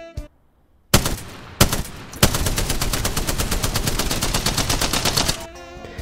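Spitfire light machine gun from a sci-fi video game fires in short opening shots, then a long, loud, rapid sustained burst that cuts off abruptly.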